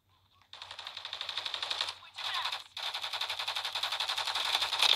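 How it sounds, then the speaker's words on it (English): Sustained bursts of rapid automatic gunfire in the video game Call of Duty: Modern Warfare 3, a fast rattling stream broken by two short gaps and growing louder toward the end. "I'm getting shot in my back"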